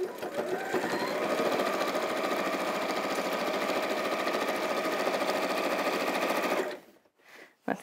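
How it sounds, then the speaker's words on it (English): A sewing machine stitches steadily through foam for a caddy project, a close, continuous mechanical whirr lasting several seconds before it stops abruptly, leaving near silence. "each time you turn it around on the machine, it'll make it easier for you to sew"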